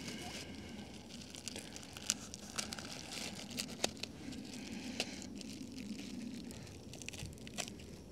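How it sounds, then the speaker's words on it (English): Plastic pizza packaging crinkles and tears as scissors snip through it, a run of close, sharp cuts and rustles with no talking. "get my trusty scissors, open the pizza"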